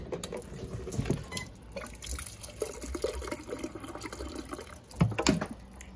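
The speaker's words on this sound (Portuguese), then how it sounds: "jogar água aqui dentro. Pra dar uma pré-enxaguadinha nos panos" Water splashes and pours into a Wanke Sally 5 kg washing machine for a pre-rinse, a steady close gurgling fill with brief louder splashes and no talk.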